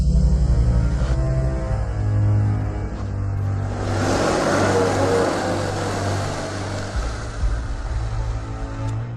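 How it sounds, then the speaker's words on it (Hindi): A car approaches with a steady, rising engine rumble that grows louder and fuller over several seconds, holding strong near the end over a low, constant hum. "बॉस सुनिए, एक गाड़ी आ रही है।"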